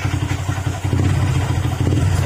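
Honda Click scooter engine running, which has a recurring oil-drying problem, a steady low throbbing mechanical hum with light clatter, close and continuous.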